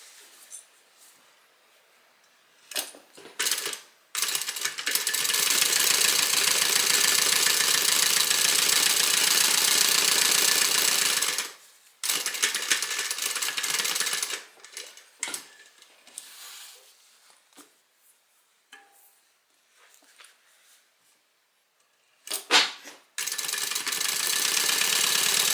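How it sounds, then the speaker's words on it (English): A sewing machine stitches up the sides of a quilted pocket from the bottom, running in loud steady bursts of mechanical whirring broken by short pauses and quieter handling. "So we're just going to pull this up and go ahead and stitch these sides closed."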